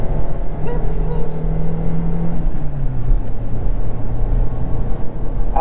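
A Ford car accelerating hard after a kick-down, its engine tone climbing steadily and then dropping as it shifts, loud and close from inside the cabin, with people talking over it.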